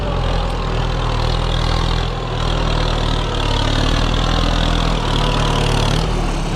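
An M95 tractor engine running hard while ploughing, a loud, close, continuous rumbling drone with a steady low throb and a slight dip in power midway.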